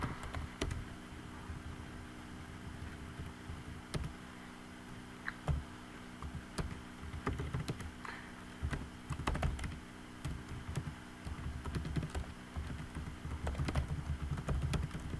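Fingers type on a computer keyboard in uneven bursts of soft clicks, close and quiet over a faint background hum, entering personal details into a form.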